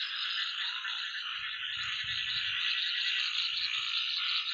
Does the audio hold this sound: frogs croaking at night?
yes